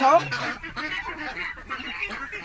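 Several farm ducks, some sick, quack and honk in short, irregular calls close by, with soft murmuring underneath.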